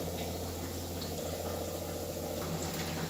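Gulgule, sweet wheat flour fritters, frying in hot oil over a medium flame: an even, continuous bubbling sizzle, faint and close, with no talking.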